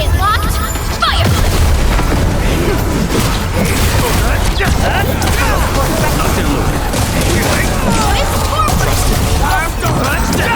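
Turret and weapon fire from combat facilities in Arknights: Endfield, a dense, continuous battle din of booms and rapid shots that runs at full loudness from start to end, with a brief lull near the opening.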